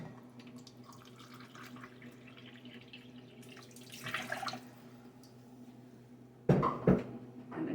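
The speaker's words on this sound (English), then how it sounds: "I'm going to take 1 cup of water" A cup of water poured in a home kitchen, heard as faint trickling and a brief louder splashing burst toward the end, with quiet background hum and no talking.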